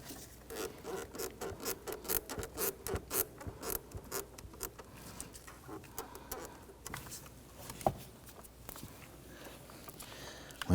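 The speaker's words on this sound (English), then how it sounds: "Using some hose pliers, you can grab a hold of this hose, twist it and pull that off." Hose pliers twist and pull a rubber hose off a purge solenoid valve on a 2017–2020 Hyundai Elantra 2.0, giving faint, close clicking and rubbing in a rapid uneven rhythm.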